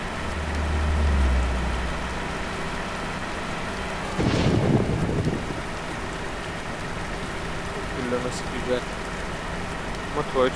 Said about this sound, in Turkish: Doğuştaki gök gürlemesi, gerçekteki gök gürlemesi şimşek çakmasıyla aynı.